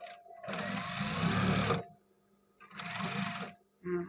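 A sewing machine stitches an elastic waistband onto trousers in two sustained bursts of rapid whirring, then a short third spurt, with quiet pauses between runs.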